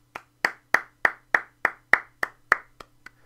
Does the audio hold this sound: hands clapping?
yes